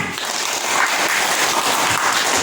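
Students in a classroom clapping for a classmate's good answer, a continuous even burst of many hands close by, with no voices over it.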